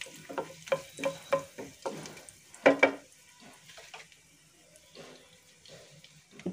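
Cumin seeds and curry leaves go into hot oil for a crispy aloo fry, giving faint, scattered crackles and sputters in short bursts against a quiet background.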